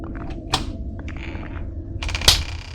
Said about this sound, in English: Ah, that was the sound of a trap.